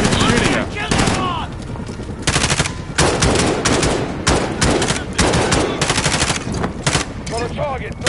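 Rapid automatic gunfire and single shots in Call of Duty Modern Warfare's campaign, loud and close, bursts chopping through the whole stretch with explosions and shouting mixed in.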